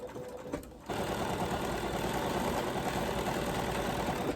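Bernina sewing machine running steadily up close as it stitches quilt binding with a 71 foot, a brief pause near the start, then continuous even whirring.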